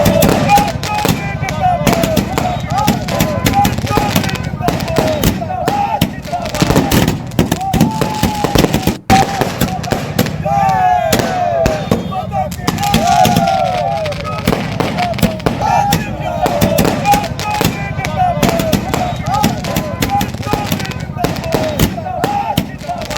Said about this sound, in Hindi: अब जश्न के लिए पटाखे फूटने शुरू हो गए हैं, आतिशबाजी शुरू हो गई है